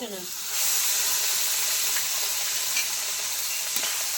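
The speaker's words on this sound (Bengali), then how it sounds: "আদাটা একটু নেড়ে চেড়ে নেবো।" Ginger paste fries with turmeric and spices in a pan, a loud, dense, continuous sizzle that swells to full strength after a brief quieter start.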